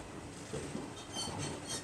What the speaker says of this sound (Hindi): तो भाई अपने बिल्कुल निर्धारित समय 9:50 पे अपना डिपार्चर हो चुका है काठगोदाम रेलवे स्टेशन से।